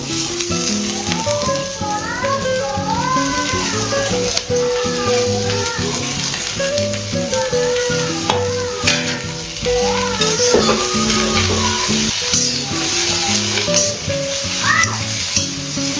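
Komli and pumpkin greens fry loudly in a pan, a dense crackling sizzle under rhythmic stirring strokes, close up, with faint voices in the background.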